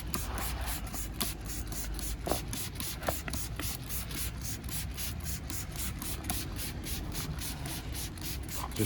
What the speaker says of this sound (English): I've got my citrus pre-wash